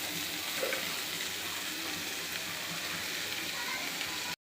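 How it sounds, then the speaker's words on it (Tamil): Okra and onion sautéing over low heat in a pan, a continuous even sizzle and hiss at close range with a faint stir now and then, holding steady before it cuts off abruptly. "நல்லா வதங்கட்டும் சிம்மில் வச்சு நல்லா வதக்கிட்டே இருக்கட்டும்"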